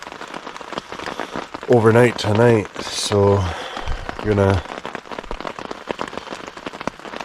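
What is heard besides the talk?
steady rain falling on a campsite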